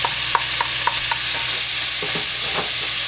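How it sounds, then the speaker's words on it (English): Chopped onions, peppers and celery sauté in rendered pork fat in a hot pan, a constant loud sizzle with soft scraping taps from stirring, close up and without talking. "To this, I'm gonna add my Trinity, which is your onions, your peppers, and your celery"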